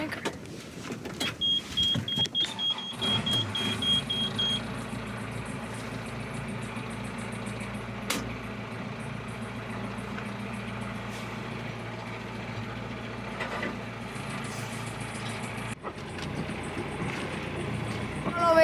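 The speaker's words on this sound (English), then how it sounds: "Fire up the engine now" A boat engine starts and settles into a steady, low idling drone that runs on beneath faint background sound before cutting out near the end.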